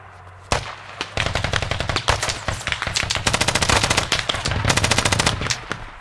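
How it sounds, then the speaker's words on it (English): A heavy machine gun in the military shooter game Squad fires long, loud, rapid bursts, each shot a sharp crack in a fast steady rhythm after one opening shot. "They've got a heavy machine gun."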